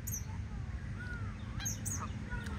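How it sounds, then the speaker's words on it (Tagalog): A wild goose gives a few faint, distant honks over a steady low rumble of outdoor background noise. "Daming goose, daming malaking goose"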